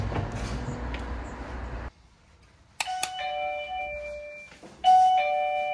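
A two-tone doorbell chime rings out clearly in a pizzeria after a brief pause in background noise, with a second ding-dong following.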